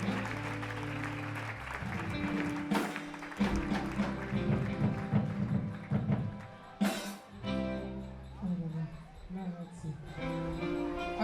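Church congregation clapping along during praise, steady applause mixed with voices and music, rising and falling in bursts under ongoing speech.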